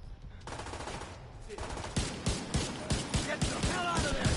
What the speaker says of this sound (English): this shotgun's got some range.